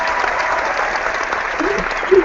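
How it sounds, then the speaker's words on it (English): Loud crowd applause fills the whole stretch as a steady wash of clapping at a fitness challenge event, with a slightly stronger burst near the end. "The crowd is really excited. It's going nuts right now."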